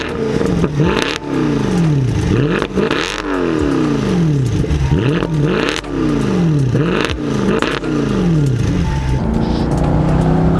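Mercedes C63 AMG Edition 507 with its 6.2 litre V8 revving hard, repeated rising and falling sweeps roughly every second, loud and close, with no talk over it.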